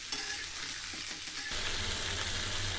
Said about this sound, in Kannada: ಈಗ ನೋಡಿ, ಇಲ್ಲಿ ಹುರುಳಿಕಾಯಿ ಚೆನ್ನಾಗಿ ಬೆಂದಿದೆ ಒಗ್ಗರಣೆನಲ್ಲಿ.